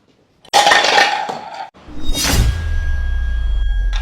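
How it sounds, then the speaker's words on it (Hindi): Kitchen utensils, including a glass rolling board and rolling pin, tumble and clatter loudly nearby, a sharp crash followed by a second clanging impact and a lingering ringing hum. "बर्तन ही गिर गए।"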